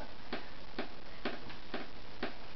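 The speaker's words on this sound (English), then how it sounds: "What is that mysterious ticking noise?" Steady ticking in a room, six sharp clicks at an even pace of roughly two per second over a low background hiss, with no voices.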